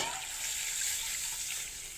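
Curry broth poured into hot spiced oil for an egg and lentil fritter curry, giving a steady bright hissing sizzle that carries on evenly without speech.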